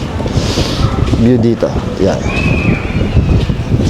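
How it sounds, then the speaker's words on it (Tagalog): Wind streams in through an open window of a room, a steady broadband rush and rumble that runs the whole time beneath a person talking close by. "Pasok na pasok yung hangin."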